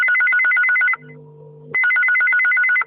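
A telephone rings into a Chhattisgarhi-song phone-in program on All India Radio Raipur, loud electronic trilling bursts separated by a lower tone, then ringing again.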